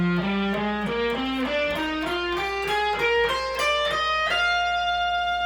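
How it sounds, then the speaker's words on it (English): A guitar plays a rising scale spanning two octaves, one note after another at a steady pace, with a slightly overdriven, sustained tone. "So if we play that whole scale in 2 octaves"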